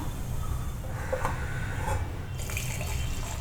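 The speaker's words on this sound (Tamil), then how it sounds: "இது வடிகட்டி ஒரு பாத்திரத்துக்கு ஊற்றிக்கலாம்." Strained masala tea is poured into a vessel in a home kitchen, giving a soft, steady liquid trickle and splash against low background hum, with no voices.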